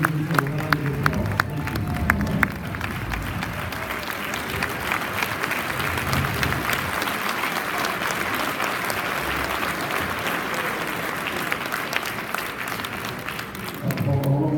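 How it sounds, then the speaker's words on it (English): An audience at a civil liberties luncheon bursts into a long, dense round of applause, loud and sustained for over ten seconds. A few sharp claps stand out at the start before it swells into a steady wash that trails off near the end. "The entire Elk family, please stand and give us a round of applause."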